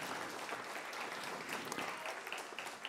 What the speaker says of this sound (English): he really needs an applause.